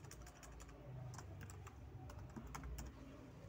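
Rapid typing on a computer keyboard, a steady run of close, light key clicks with irregular rhythm and no speech.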